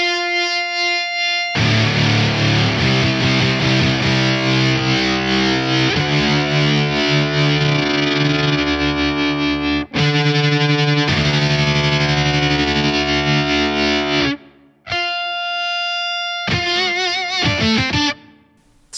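An electric guitar played through an Ultrawave stereo fuzz with envelope-driven LFO panning gives loud, thick distorted chords and sustained notes that swirl and pulse, with short breaks between phrases and no talking.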